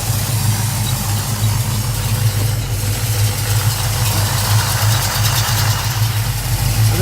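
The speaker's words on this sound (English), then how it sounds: "I've had the engine idling probably now for about almost close to 10 minutes" A 1969 Oldsmobile Hurst/Olds V8 idles close by, a loud, steady low rumble with a faint regular lope and no talk over it.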